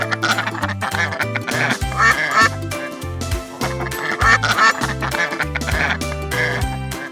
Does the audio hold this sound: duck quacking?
yes